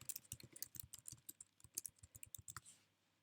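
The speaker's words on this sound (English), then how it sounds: "I'm typing that this is the original image." Brisk typing on a computer keyboard while renaming a Photoshop layer: a quick run of soft, close key clicks for about two and a half seconds, then silence.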